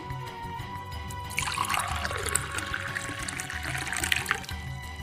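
Water splashes and trickles into a vessel for drinking, a bright pouring rush starting partway in and continuing steadily over a low background hum, close and moderately loud.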